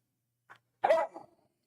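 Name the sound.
puppy barking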